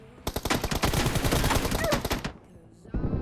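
Rapid automatic gunfire in the PUBG Mobile battle game, a dense loud burst of shots lasting about two seconds, then quiet and a short new sound at the end.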